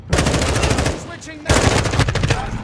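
Rapid automatic gunfire in Call of Duty: Modern Warfare II, loud dense bursts close by, with a short lull before a second heavy volley.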